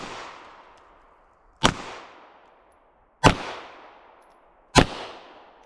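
Three sharp double-action revolver shots fired at watches, evenly spaced about a second and a half apart, each a loud crack with a fading echo tail, no talking.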